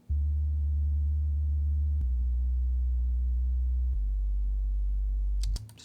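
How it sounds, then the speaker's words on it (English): A low sub-bass synth part isolated from a rock song, holding deep sustained tones that step down through three pitches, loud and steady, then cutting off at the end with a few faint clicks. "What is this sub? I think this is probably a low bass thing."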